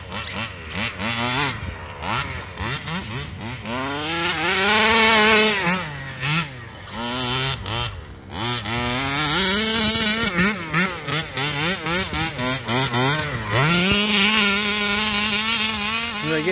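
Radio-controlled cars driving and drifting at an outdoor bashing meet at Marchwood: high, buzzing motors whine up and down in quick bursts as they accelerate and slide, loud and near.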